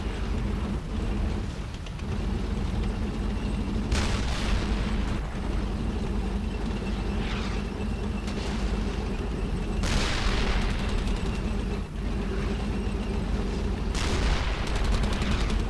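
Gunfire and explosions in the World War II shooter game Brothers In Arms: Hell's Highway, heavy rattling fusillades with loud blasts bursting near four, ten and fourteen seconds over a constant dense battle din.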